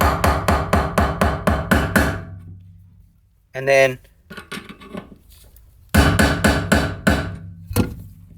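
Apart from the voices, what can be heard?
screwdriver hammered on BMW E30 fuel pump notches to rotate it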